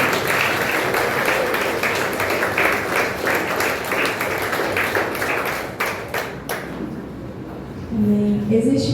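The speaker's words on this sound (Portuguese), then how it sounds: "Dê um aplauso ao Senhor." A congregation at a celebration worship service applauds, with sustained, dense clapping for about six seconds that thins out, followed by a voice speaking.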